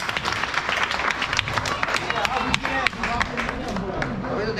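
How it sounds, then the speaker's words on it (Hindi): Applause for a candidate at an election meeting of a Uttar Pradesh statistical service association, dense crowd clapping close by, loud and continuous, with some background chatter mixed in. "मंजुल के लिए जोरदार।"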